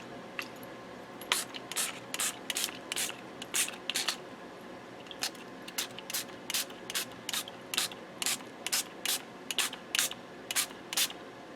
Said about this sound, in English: I'm going to spray it with the black.